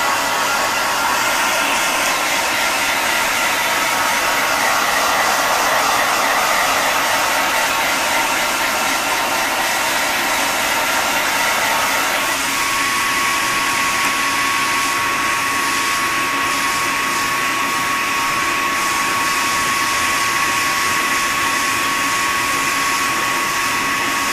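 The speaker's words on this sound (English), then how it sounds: "I'm just showing you how to hand blow dry a kitten." A hair dryer blows steadily at close range on a Persian kitten's fur, a constant whooshing roar whose tone shifts slightly about halfway through, with no voices.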